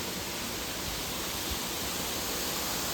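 Water falls steadily at the Harvelem waterfall, a dense, even hiss that holds at the same level throughout with no voices.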